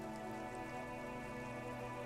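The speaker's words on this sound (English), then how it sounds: "It's raining again." Rain falls at night in the video game Disco Elysium, a soft, even patter that stays constant and fairly faint for the whole stretch, with no voices.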